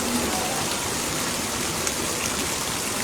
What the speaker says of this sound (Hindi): हालांकि अब बरसात का रूप ये देखिए कम हो चुका है